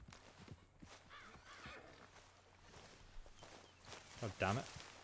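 A horse in Red Dead Redemption 2 gives a short, loud whinny near the end, preceded by soft hoof clops and footsteps as the rider dismounts, with a player talking intermittently over the game sounds.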